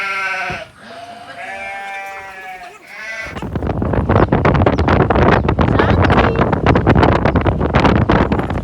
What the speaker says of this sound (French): on voit des brebis